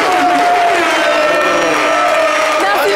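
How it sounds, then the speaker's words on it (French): Steady, loud applause from a crowd runs throughout, mixed with cheering voices and tonal sounds layered over the clapping. "On applaudit."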